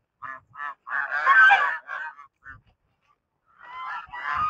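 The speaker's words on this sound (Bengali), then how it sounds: "কি বাপরে পঞ্চাশ হাঁস।" A flock of around fifty large domestic ducks or geese honks and calls in loud, overlapping bursts close by, with short pauses between volleys and a final rising chorus at the end.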